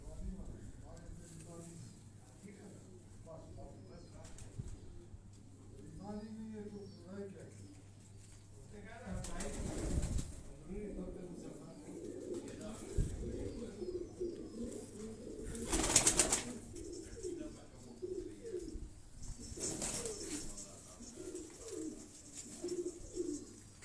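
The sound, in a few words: teddy pigeons cooing and flapping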